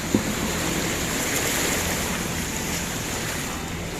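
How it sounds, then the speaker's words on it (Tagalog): Ocean surf washing ashore at a fishing beach, a continuous broad roar of waves and wind buffeting the microphone, fairly close and steady with no voices. "Last ng alon."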